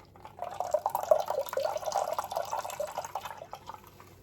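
Homemade almond milk drips and trickles steadily through a nut milk bag, a soft, close, continuous patter of liquid lasting a few seconds with no talking.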